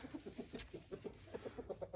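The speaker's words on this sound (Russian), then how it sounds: "На улице еще светло, а куры уже зашли." Chickens cluck softly inside a lit coop in the evening, a steady run of short, low clucks repeating in an even rhythm, close by and calm, with no talking.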